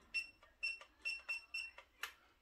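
Sharp electronic beeps from an MST RMX 2.0 RC drift car transmitter, about six short tones in an uneven rhythm, close and clear against a quiet background.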